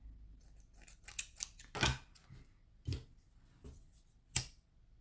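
Scissors snip through the cord tail of a handmade mala necklace, a few sharp close clicks and cuts spread over several seconds in a quiet room.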